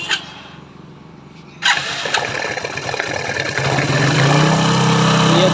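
A Hero HF Deluxe BS4 motorcycle engine starts after a quiet moment with a sudden catch, then settles into a steady, close idle that grows slightly louder.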